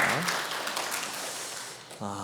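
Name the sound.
congregation applauding for fathers in church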